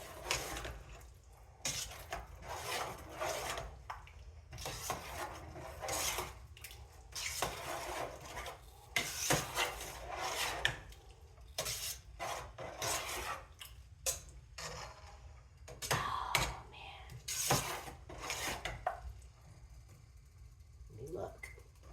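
Chopped onion being stirred in a pot for chili, with repeated scraping and clinking of a utensil against cookware in an irregular rhythm, close by, while a person talks throughout.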